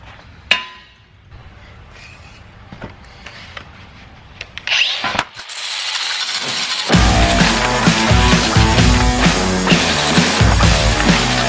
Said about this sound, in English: Got my flap wheel ready, my Milwaukee grinder, and we're going to clean each of these guys up.